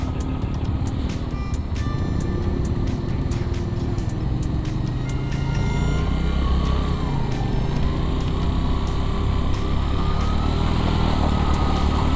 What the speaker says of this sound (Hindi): भाई पानी में मोटरसाइकिल चलाना ना थोड़ा सा मुश्किल है।